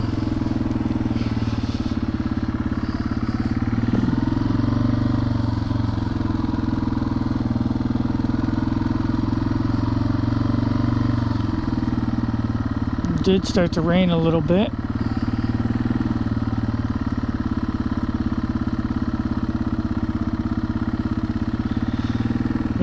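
A Yamaha TW200 motorcycle rides on a city street at night in light rain, its steady mid-pitched engine drone running throughout beneath a rider talking, with a brief warbling tone partway through.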